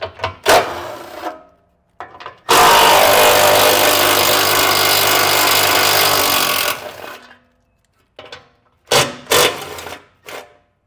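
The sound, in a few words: power tool removing 13mm heat shield bolts under truck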